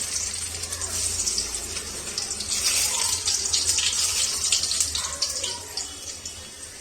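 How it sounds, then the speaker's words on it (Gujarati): Garlic sizzles in hot oil with a dried red chilli and bay leaf, making a steady, dense hiss that runs the whole time, close and fairly loud, with no one talking. "લસણ સેજ કકડી જાય"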